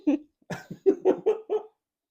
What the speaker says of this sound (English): it's a little cough